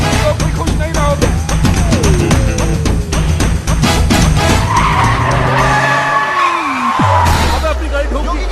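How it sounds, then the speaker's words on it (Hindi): Car tires screech in a long skid during a Hindi action film scene, with revving engines, a brief bang of impact and a sliding whine that drops away at the end, all loud and close. "अब अपनी गाड़ी ठोक दी।"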